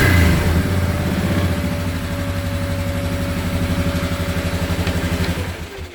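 A Polaris Trail Boss 330 ATV engine runs at a steady idle, a loud, close, even low throb that holds throughout before easing off at the very end.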